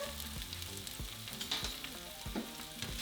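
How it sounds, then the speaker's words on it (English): Onions and poblano chiles sizzle and crackle in hot oil in a skillet, a steady close frying hiss broken by irregular stirring scrapes, with no voices. "once our oil is hot, we're going to add our onions and our chile poblanos"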